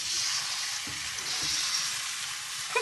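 Beaten egg fries in a pan for fried rice, giving a continuous bright sizzle that stays loud and close throughout, with a few soft scraping stirs underneath.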